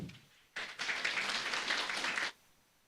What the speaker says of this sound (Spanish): Vamos a dar un aplauso, hermanos.